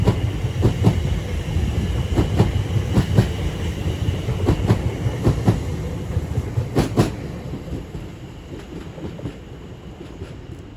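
A Greater Anglia Class 720 electric train passes through Stratford station, wheels clattering in a rhythmic clickety-clack over rail joints, loud at first and slowly fading as it moves away.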